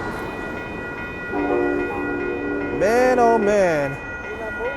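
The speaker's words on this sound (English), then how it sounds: "that train is going to Sacramento" An Amtrak Capitol Corridor passenger train passes the Fruitvale Avenue crossing in Oakland, its horn sounding in long, loud, bending blasts over the rumble of the rail cars, while a man briefly exclaims.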